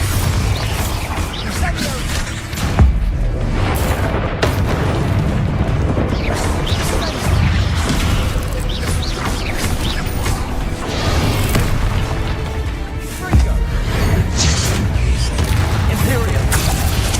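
Spell explosions from the Hogwarts Legacy video game, including the Bombarda blast, as a loud dense run of booms, bursts and mechanical clatter over a thick rumbling bed, almost without a break.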